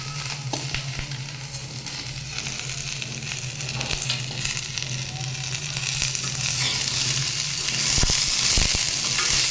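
Mixed vegetarian vegetables, including chopped sponge gourd, are stir-fried in a pan with a steady, close sizzle and occasional sharp scrapes and clicks of stirring.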